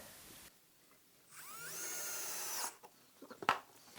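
A power drill driving a screw into a wooden Adirondack chair during assembly, a short whirring burst of a second or so, followed by faint clicks and handling knocks.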